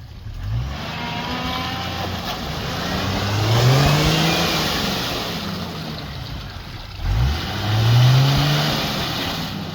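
A 4x4's engine revs hard while it tows a car backwards, surging in two loud, rising swells over a constant rough rumble, close by, with no talking.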